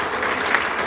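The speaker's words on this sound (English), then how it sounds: "Let's give them a round of applause" Dense, steady applause from an audience at a Hispanic Heritage community breakfast, honoring Rodriguez Construction; a close wash of many hands, brief and even in level throughout.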